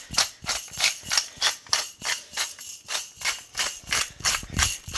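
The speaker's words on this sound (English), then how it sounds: "Pepper grinder doesn't put out the most at a time, but that's pretty good." A hand-turned pepper grinder cracks whole black pepper, close up, in a steady run of short rhythmic crunching twists repeated about fourteen times, with no talking.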